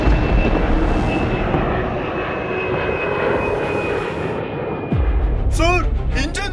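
Airplane engines run with a steady loud drone and a high whine, a louder thump near the end, while people talk over the noise.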